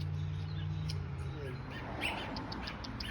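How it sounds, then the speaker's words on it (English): A small bird caught by a cat chirps in short, bright tweets. The calls are close and clearer toward the end, over a low background hum. "It's a bird."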